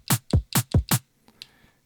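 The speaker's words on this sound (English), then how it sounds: "First I wanna load drum kit." Drum kit sample loaded into a sequencer: five loud, evenly spaced punchy hits with deep low thumps and bright crashing tops, followed by a couple of faint, softer ticks trailing off.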